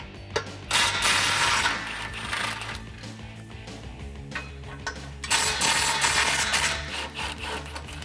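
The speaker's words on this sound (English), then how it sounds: "grab your 16mm socket and disconnect these two bolts." A ratchet with a 16mm socket clicks in bursts while loosening exhaust flange bolts under a 2019-2020 RAM 1500 5.7L, with rapid mechanical ratcheting and brief pauses between runs.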